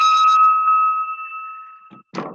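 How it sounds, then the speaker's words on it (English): A bell rings once at noon to open a Rotary Club meeting in Newport, Oregon, its tone clear and sustained, fading slowly over about two seconds before a voice begins speaking. "go ahead and ring the bell"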